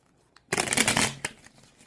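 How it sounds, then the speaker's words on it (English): A deck of tarot cards is riffled once up close, a quick burst of flapping card edges lasting about a second before it settles. "get the card shuffled for you guys"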